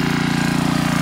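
Outdoor generator running at an off-grid homestead, a steady loud low engine drone with a fast even pulsing throb, alone and unchanging for the brief moment.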